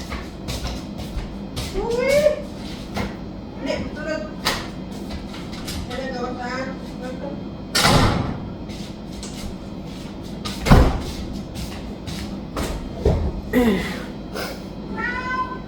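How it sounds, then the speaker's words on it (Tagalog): A door is opened in a home, with sharp knocks and clacks while a cat meows repeatedly nearby and someone talks over the sounds. "Buksan ko lang muna ang pinto."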